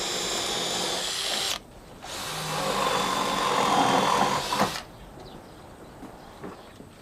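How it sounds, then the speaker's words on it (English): A power drill bores a 13 mm hole through a timber ribbon plate, whirring in two loud sustained bursts separated by a short pause, up close with no talking. "so I'm going to drill a 13 mil hole through our ribbon plate"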